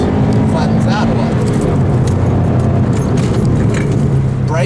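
Subaru WRX engine pulling hard in second gear from about 2,500 rpm, a loud, steady rising drone that builds throughout, with someone talking over it.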